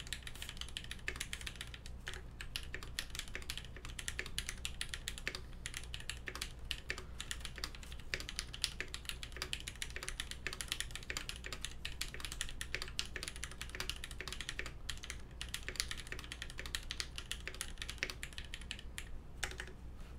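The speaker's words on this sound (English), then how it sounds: "Bit of a typing test for you." Rapid, continuous clacking of typing on a Noxary 268 mechanical keyboard with Retooled Black switches, crisp and close with an even rhythm.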